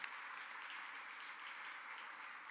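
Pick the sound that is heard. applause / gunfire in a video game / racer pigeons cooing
applause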